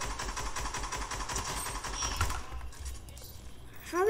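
Rapid automatic gunfire in the video game Fortnite, a dense rattling burst for about two seconds that then cuts off, leaving quiet game ambience.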